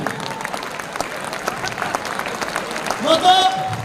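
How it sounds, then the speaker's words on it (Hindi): A seminar audience breaks into applause for a network marketing talk, broad crowd clapping that swells toward the end, with voices and a brief whistle-like tone mixed in. "अपने फ्यूचर के लिए ताली बजाएं।"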